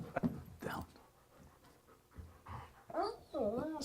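Police training dog panting and whimpering with Garden City police, quick breathy pants and high whines in short bursts close by, mixed with a man's speech giving commands.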